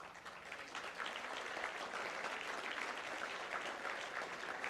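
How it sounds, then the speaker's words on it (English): A school audience at Sindhi High School, Hebbal claps steadily in a continuous wash of applause, sustained and fairly distant with no pauses. "Boys, do I hear you all clap?"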